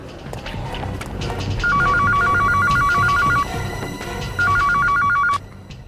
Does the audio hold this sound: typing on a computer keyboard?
no